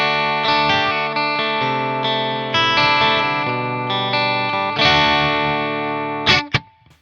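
Chapman Ghostfret Pro electric guitar on its bridge pickup with the coil split, played through a Fender Deluxe Reverb: sustained, bright, slightly driven chords ringing loud and steady, changing every second or so, ending in a sharp strum that cuts off.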